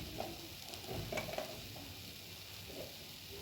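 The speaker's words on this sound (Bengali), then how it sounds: "ঘি দেওয়ার পর নেড়ে চেড়ে নামিয়ে নেব।" Cooked taro greens being stirred in a pan after ghee is added, a soft sizzle under light scraping strokes, fairly quiet with no talking.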